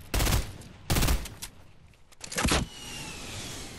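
Gunfire in the Fortnite battle royale game: three loud, sharp broadband bursts close together, each brief, followed by a quieter steady hiss with a faint tonal whine.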